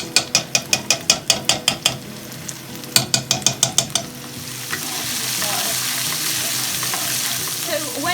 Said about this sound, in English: we're going to add some broad bean paste from the Chinese supermarket.